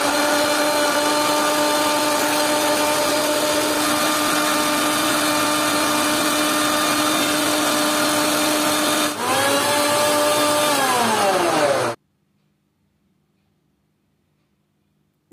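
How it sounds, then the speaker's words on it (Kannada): An electric mixer grinder blends watermelon juice with sugar in a steady, loud whir. Its pitch dips near the end before the motor cuts off abruptly, leaving near silence. "ಈಗ ಮೇಲಿಂದ ಮುಚ್ಚಿ ಸ್ಮೂತಾಗಿ ರುಬ್ಕೊಬರೋಣ"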